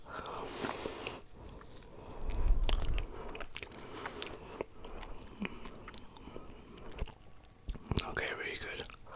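Plant-based marshmallows made without gelatin being bitten and chewed close to the mic, soft squishy mouth sounds with a few crisp bites, while a quiet voice talks and whispers throughout.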